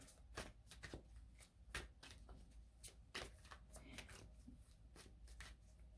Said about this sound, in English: usually when I'm shuffling my cards